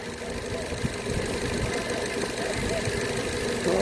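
A car engine idles while overheating, with coolant pushing out of the reservoir. It gives a steady, rough, knocking rumble close by, with a continuous mechanical clatter and no change in pace.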